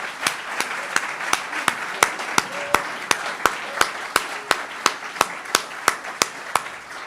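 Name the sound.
audience applause at a ceremony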